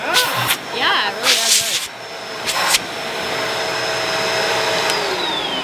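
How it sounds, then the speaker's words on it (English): A vacuum cleaner hose pulls suction in a summer life-hack test, a steady loud hissing whoosh that takes over the second half after short bursts of voices and laughter. "super effective vacuum hose"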